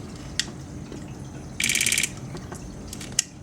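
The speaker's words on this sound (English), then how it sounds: "you will be able to hear the electronic solenoids" A short burst of rapid electronic clicking from a Polarstar airsoft DMR's solenoids firing full auto, a quick mechanical buzz lasting about half a second, with a couple of single sharp clicks before and after.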